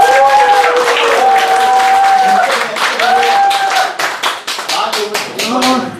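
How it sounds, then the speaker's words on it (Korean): Audience applause at a lecture forum for a food coach, a dense roar of clapping hands filling the room, loud and sustained, with a speaker's voice carrying over it throughout. "박수 한번 보내주시기 바랍니다"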